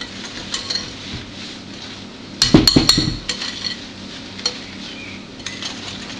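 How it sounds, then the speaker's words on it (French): A whisk stirring chocolate fondant batter in a bowl: quiet scraping at first, then a brief burst of loud clinking and tapping against the bowl, and a few lighter clinks after. "En tournant le fouet."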